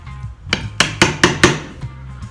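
Wood is chiseled for the neck opening of a cigar box guitar with a mallet striking the chisel in about six sharp, evenly spaced knocks, close and clear against a low background hum.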